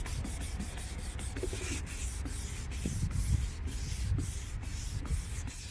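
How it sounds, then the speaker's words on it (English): Sandpaper wet-sands a badly oxidized, milky car headlight lens, making a steady close rubbing and scraping in quick back-and-forth strokes, moderately quiet and with no talking. "until that is gone, we will use the sandpaper."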